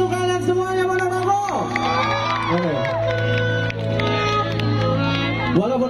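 A concert crowd in a stadium in Ponorogo cheers and shouts throughout, with a steady roar under loud amplified voice and music on a rainy night.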